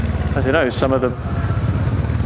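A Kawasaki Versys 650 motorcycle with a new chain and sprocket hums along while riding, its steady mid-pitched engine drone running underneath throughout as someone talks briefly over it near the start.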